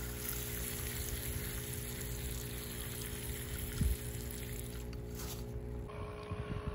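Hydroponic clay beads being washed with water, making a steady, close rush of running water that fills the whole stretch, with a brief knock near the end.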